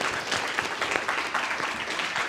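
Audience applause welcoming MP Zoe Royer at a youth speech competition, a steady crowd clapping that fills the room, with no talk over it.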